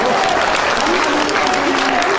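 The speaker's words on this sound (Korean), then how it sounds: "이봉규 박사님께도 감사의 박수를 보내주시기 바랍니다." A large crowd at a rally founding a YouTube federation applauds Dr. Lee Bong-gyu, loud, dense and continuous clapping with faint voices mixed in.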